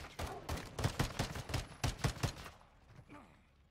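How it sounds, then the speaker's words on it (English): Rapid bursts of gunfire from the Call of Duty Modern Warfare 2 campaign, about a dozen sharp, evenly spaced shots in quick succession, fairly distant and moderate in level, ending abruptly and leaving a faint ambient tail. "Quick, shoot him."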